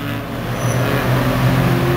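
A Ford Fiesta car drives past on a mountain road in the Alps, a steady close engine drone that swells slightly as it passes, with no talk.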